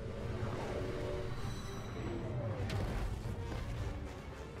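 Train in the video game Bayonetta 3, a rumbling rolling rail sound with faint metallic squeals, continuous and fairly quiet under game noise.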